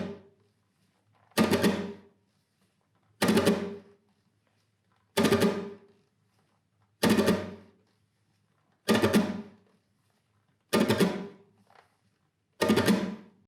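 Seven evenly spaced bursts of flamenco abanico rasgueado strumming on a nylon-string guitar, each a quick rolled triplet ringing out, separated by silence.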